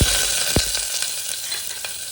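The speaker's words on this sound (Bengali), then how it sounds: "এবার গরম তেলে পেঁয়াজগুলো ছেড়ে দেব।" Onions hit hot oil and fry with a loud, crackling sizzle, a few sharp pops standing out over the steady hiss, close up and without speech.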